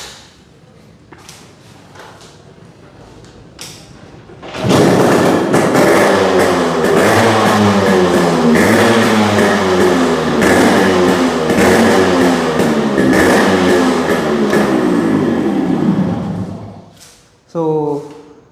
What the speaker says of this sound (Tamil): இந்த வண்டி ஸ்டார்ட் பண்ணி காட்டுறேன்